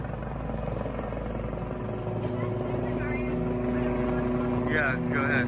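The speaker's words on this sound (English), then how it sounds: "The pilot then began flying the helicopter in circles, engaged just 400 feet above Glendale Homes." A helicopter circles about 400 feet above homes in Glendale, its steady droning rotor and engine hum continuous and fairly loud, with faint speech-like bursts near the end.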